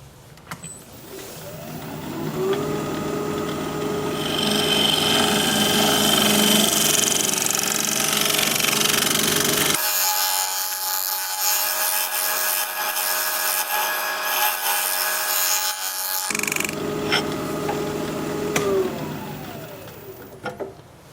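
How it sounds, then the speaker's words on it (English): A negative rake scraper runs across spinning turned wood on a lathe, making a steady motor hum with a rough rasping scrape that breaks off midway, leaving near silence, then resumes for several seconds, with no talking. "I'm going to scrape it."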